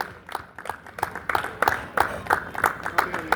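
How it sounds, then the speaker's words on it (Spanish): A congregation at an evangelistic campaign service claps together in a steady rhythm of sharp, evenly spaced claps, growing louder and fuller partway through. "Vamos a darle un fuerte aplauso al Señor."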